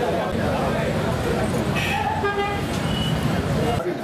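Busy road traffic in a town, with a steady rumble of passing vehicles and several short car horn toots sounding in quick succession near the middle, a voice murmuring faintly underneath.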